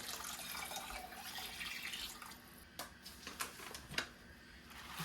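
Water pours and splashes into a cooking pan, a faint, uneven trickle with a few sharper spills and drips toward the end, heard alone without talk.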